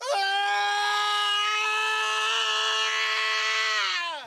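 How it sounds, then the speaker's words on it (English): A recorded human scream made for the voice of Sauron: one loud, sustained, strained cry held for about four seconds, close and harsh with a slight rise and fall in pitch, heard alone. "We recorded ourselves screaming"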